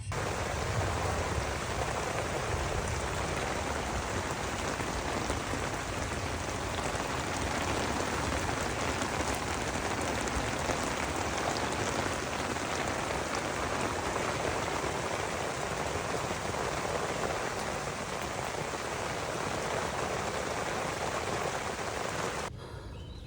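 Heavy spring rain pouring onto surfaces at a truck campsite, a dense, even, close hiss of drops that carries on without a break.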